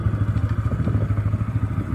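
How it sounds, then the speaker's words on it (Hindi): A Bajaj Pulsar motorcycle engine runs close by with a rapid, throbbing exhaust pulse and mechanical clatter, holding a steady, fairly loud rumble with no voices. "दिखा ही देता हूँ आज इस बाइक की पावर"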